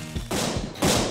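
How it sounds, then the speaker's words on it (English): Two dynamite explosions in Cooking Simulator, a pair of loud, sharp bursts roughly half a second apart, each leaving a brief noisy crash, with no talking. "Ah, two explosions."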